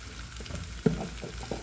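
Chili and coriander powder sizzling in hot oil for an egg curry, a soft steady frying hiss with faint scraping and clinks as it is stirred, close and quiet.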